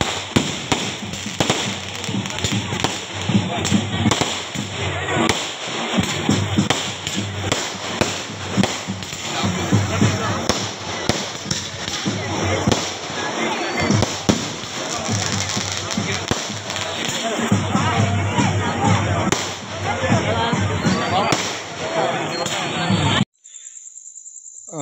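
Fireworks and firecrackers burst nonstop at a Konkan village gate during a Holi welcome with electric lights, a dense loud crackle and popping lasting the whole time before cutting off abruptly at the end.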